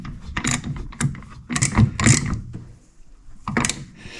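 Nuts on the proportioning valve of a Jeep TJ brake system are tightened with a ratchet in several close, loud bursts of clicking and metallic scraping separated by brief pauses.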